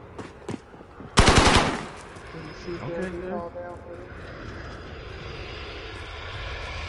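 A VTOL aircraft flies in during a Call of Duty match, its engine roar rising behind a sharp burst of gunfire, with brief voice chatter and a sustained droning hum afterward.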